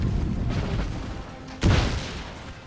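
Cannons in a historical strategy video game fire as distant booms, with a rumble of battle early on and then one louder, sharper blast rolling out and fading after it.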